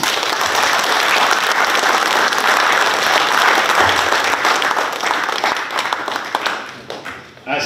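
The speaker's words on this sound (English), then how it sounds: "let us all again give him another big round of applause." A large audience at an official event for the FSM President's visit to Pohnpei applauds in a loud, sustained round of clapping that runs without a break and thins slightly near the end.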